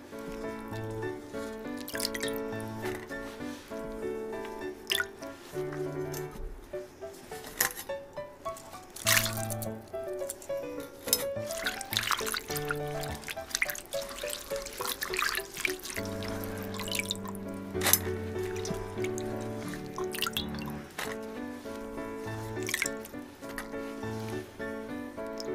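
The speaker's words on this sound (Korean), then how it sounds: "체에 건져내고 물에 한번 조물조물 헹궈서 건져줍니다." Sliced burdock root, soaked in vinegar water, is drained in a sieve and rinsed by hand, with steady dripping, splashing and squishing water sounds over background music.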